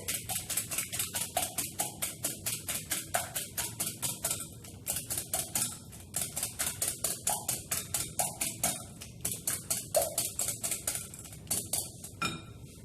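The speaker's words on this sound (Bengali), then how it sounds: "দুটো ডিম আমি ভালো করে ফেটিয়ে নিচ্ছি।" Two eggs are beaten briskly in a bowl for a chocolate cake, a fast rhythmic series of clinking whisk strokes against the bowl in steady bursts with short pauses, close and clear.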